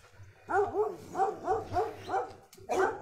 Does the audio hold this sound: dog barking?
yes